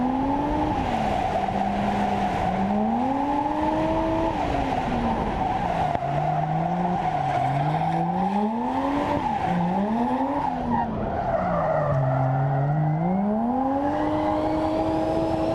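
Car drifting on a partly icy track in Japan, loud continuous tire squeal and engine roar sliding up and down in pitch through repeated long slides, close and alone.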